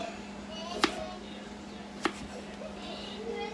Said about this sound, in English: Now we are going to chop up some onion